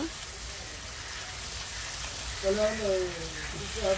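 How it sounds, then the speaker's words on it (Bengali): Spices for a katla fish curry sauté over low heat, a soft continuous sizzle filling the background while a voice talks faintly over the last part. "মশলাগুলো ভালোভাবে আস্তে জালে কষে নিব।"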